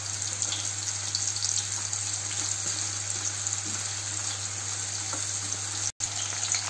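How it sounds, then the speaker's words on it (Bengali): Thin slices of banana, grated straight into hot oil, fry with a steady, dense sizzle that holds at an even level throughout, broken by one brief cut near the end. "গরম তেলের উপর গ্রেটারে করে কাটতে কাটতে তেলের মধ্যে কলাটাকে ফেলতে হবে।"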